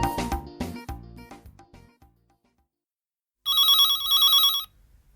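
A new phone rings with a loud, electronic warbling ringtone lasting about a second, coming after a stretch of music that fades into silence.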